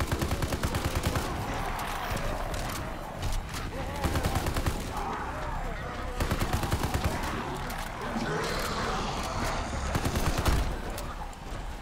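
Rapid automatic gunfire in the video game Call of Duty Zombies, a continuous stream of close, punchy shots firing in long bursts with brief pauses, loud throughout with chaotic game noise behind.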